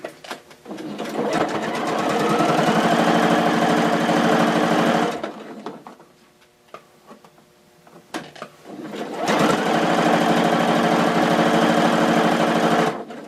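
Sewing machine stitching a fabric face mask in two long, loud runs of fast steady whirring, separated by a quiet pause with light handling clicks as the work is turned.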